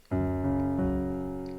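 Piano chords on the black keys are struck twice in succession, close and moderately loud, each ringing out and sustaining.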